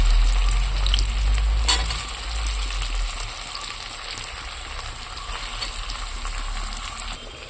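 Potato and onion pieces go into hot spiced oil, raising a loud, steady, close sizzle with a burst of stirring clatter early on, then a dense crackling fry continuing alone without speech.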